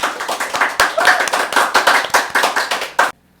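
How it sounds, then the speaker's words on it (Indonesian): A few people in a studio clapping their hands in a brisk, close, loud round of applause lasting about three seconds, then stopping abruptly into near silence. "Tepuk tangan."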